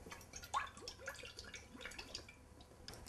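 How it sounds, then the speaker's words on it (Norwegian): Olive oil is poured over cooled pasta in a bowl, a faint, close series of soft drips and wet trickles spread across about three seconds. "Her har vi opp i litt olivenolje."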